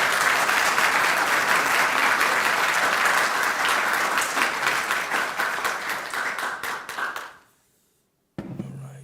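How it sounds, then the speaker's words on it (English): An audience at an inaugural university lecture gives a sustained round of applause, dense clapping that thins out and fades to silence, followed by a brief bump of room noise. "Please clap and welcome him to the floor."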